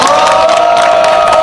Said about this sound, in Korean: 감사의 큰 박수 부탁드립니다.